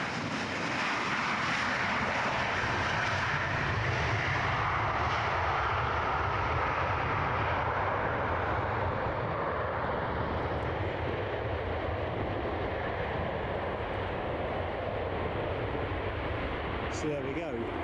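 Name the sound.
West Atlantic Boeing 737 jet at Edinburgh airport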